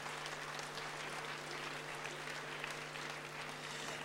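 Steady, dense applause from an audience at an outdoor village event in Bletterans, Jura, holding level and continuous throughout with a constant background hum.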